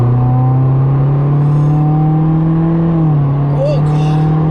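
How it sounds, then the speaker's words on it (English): A Subaru WRX in sport mode drones loudly from inside the cabin, its engine note rising steadily through a hard pull and then briefly dipping as it shifts; a person talks over the sustained engine sound. "Alright, we switched it to sport mode."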